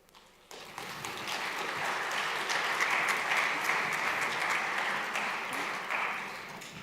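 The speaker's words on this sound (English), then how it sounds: "help me welcome her by giving her a very warm and loud round of applause" Applause at a conference main stage as a speaker is welcomed, starting quietly then swelling abruptly into a full, steady clapping crowd that stays loud and dense before tapering slightly near the end.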